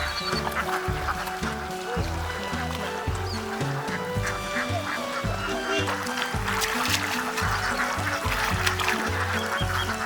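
A dense crowd of ducks quacks and honks continuously at close range, loud and overlapping without pause.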